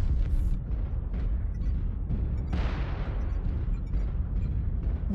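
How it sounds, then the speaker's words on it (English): Incoming missile strikes in Mechwarrior Online while piloting a Clan Timberwolf Madcat: dense, loud rumbling blasts and booms run continuously, with a sharper whooshing impact midway and no voices. "Warning, incoming missile."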